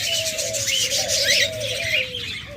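Budgerigars, cockatiels and lovebirds in a caged pair for sale, chattering and chirping continuously at close range, with warbling whistles and rising-falling calls over a steady low rumble.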